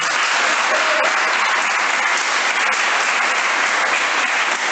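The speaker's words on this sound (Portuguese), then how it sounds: "Dê uma salva de palmas para a Virgem Maria" A congregation at a Marian sermon applauds the Virgin Mary, a loud, continuous wall of clapping from a large crowd that holds steady for several seconds.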